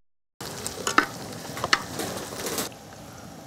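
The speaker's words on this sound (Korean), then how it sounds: "자, 여기 이제 간장 들어갑니다." Soy sauce poured into a hot pan with bracken fern, bursting into loud sizzling with stirring clatters, then settling into a quieter steady fry near the close.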